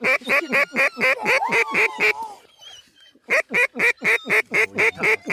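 Ducks quack in fast, loud repeated bursts close by at a hunting blind, a steady run of calls that pauses briefly midway and then resumes just as strongly.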